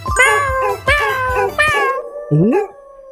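A person imitates a cat, giving four drawn-out, whiny meows close up. The first three come in a quick, even row and the last is shorter and rises in pitch.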